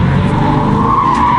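A Dodge Charger drifting around a pole, its tires skidding in a loud, continuous squeal over a steady engine roar, close by and unbroken throughout.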